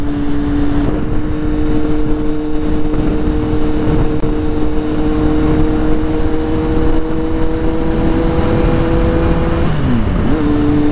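Kawasaki Z800 motorcycle engine running steadily while riding down a highway emergency lane in Malaysia, a constant loud drone with a sustained engine tone that dips briefly near the end, with wind noise and no talk.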